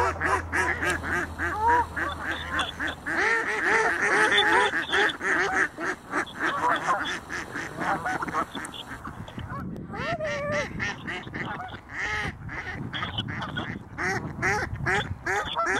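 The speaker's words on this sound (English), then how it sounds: "Oh, there's a goose coming." Geese and ducks honk and quack loudly at a pond on a December day, a dense overlapping chorus of close calls that grows busier and more rapid in the second half.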